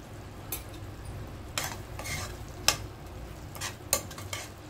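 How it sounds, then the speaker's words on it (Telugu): A spoon scrapes through a tomato curry simmering in a pan, giving soft, intermittent strokes over a steady low bubbling sizzle, close and fairly quiet, with no voices. "సో మన కర్రీ అనేది ఇలా బాయిల్ అయిపోవాలి."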